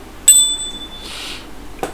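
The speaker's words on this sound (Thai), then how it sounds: "เดี๋ยวอาจารย์จะสั่นกระดิ่ง" A small hand bell is rung once during a Thai fortune-telling ritual with seam si sticks; a bright, close ting with a ringing overtone that fades over about a second, then a light rustle, with no speech.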